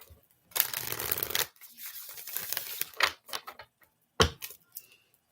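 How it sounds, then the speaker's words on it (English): Tarot cards being shuffled by hand, with a long riffle of close, crisp paper flutter followed by several shorter snaps and taps as the deck is squared. "One more shuffle."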